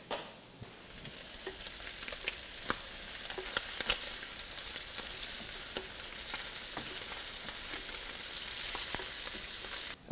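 Sockeye salmon bellies fry in a pan with a loud, steady hiss and crackle, broken by brief sharp pops. The sizzle holds close and constant throughout, with no voices.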